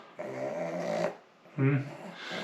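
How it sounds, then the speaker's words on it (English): A pug growls and grumbles in two close bursts separated by a brief pause, at a door. No barking stands out clearly. "This is Buddy, one of the 2 pugs, who was barking at the door."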